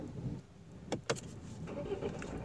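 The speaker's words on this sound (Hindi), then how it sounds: "अगर मैं गाड़ी चालू करता हूँ तो देखिए सब लाइट चल हो जाते हैं" A Tata Harrier with a short-circuited DEF wiring harness is switched on: faint clicks and a brief electrical whir come at the ignition, then a quiet low hum. No one talks.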